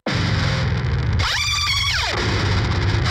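Dense distorted guitar where a wah pedal sweeps up into a sharp screech, holds, then glides back down into the grinding tone, a Gojira-style wah screech effect.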